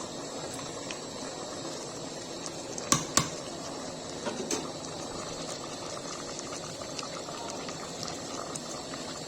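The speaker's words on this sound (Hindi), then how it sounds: "सब भूंज रहा है" Chicken with masala and tomato roasting in a pan, a soft steady bubbling sizzle throughout with a few sharp clicks and taps of utensils against the pan.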